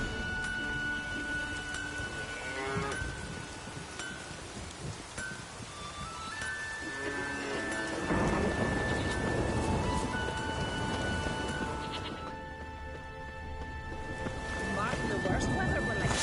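Steady rain falls in The Witcher 3: Wild Hunt, a broad wash of downpour and rustling with possible thunder, running under game music and spoken dialogue throughout.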